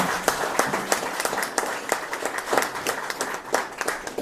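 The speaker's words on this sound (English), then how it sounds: "give Eldred a big round of applause" An audience at a museum gala in Polk County, Wisconsin, gives a short, lively round of applause. The sharp hand claps are close and loud and carry on steadily for a few seconds.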